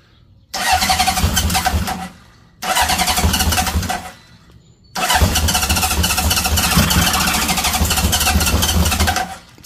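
A 1978 Honda CB750F motorcycle, cold and choked in the morning and run off a jump pack, cranks and catches twice in short bursts, then starts and settles into a steady loud idle, close and alone.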